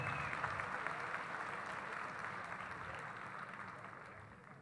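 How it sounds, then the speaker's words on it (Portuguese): An audience at an international seminar applauds Maria Gonçalves as she receives an award from the mayor, steady clapping that starts fairly loud and slowly fades, with faint murmurs underneath. "Uma salva de palmas para a dona Maria Gonçalves"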